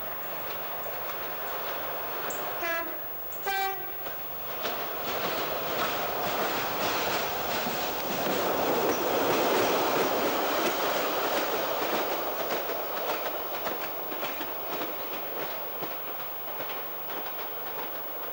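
A Sprinter diesel train rumbles steadily away with rhythmic clacking and a faint horn-like tone early on, a continuous rolling noise at moderate distance, departing through the Llynfi Valley at Maesteg, Wales.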